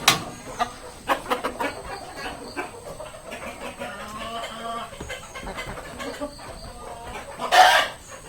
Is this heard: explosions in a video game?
no